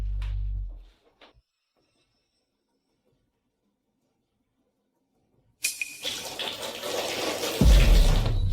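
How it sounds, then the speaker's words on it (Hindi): Water from a tap splashes and pours steadily for a girl's bath, starting abruptly after a silent pause and growing louder and fuller toward the end. "तुम ठंडे पानी से नहा रही थी"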